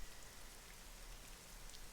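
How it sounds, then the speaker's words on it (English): Old home heater hissing in the background, a faint, steady broadband hiss with no breaks and no voices. "if you hear hissing in the background, it's just my heat being old as fuck."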